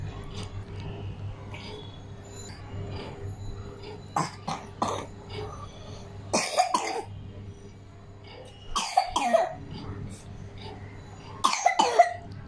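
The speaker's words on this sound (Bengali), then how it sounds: "কাশি কাশি?" A child coughs in several short, close bursts, spaced a couple of seconds apart, over a quiet indoor background.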